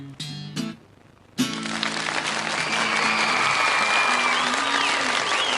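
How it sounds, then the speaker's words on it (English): Applause played as a sound effect during a live music show: a couple of short tones first, then a sudden burst of dense crowd clapping that continues steadily to the end. "I may have actually played that applause a little too early."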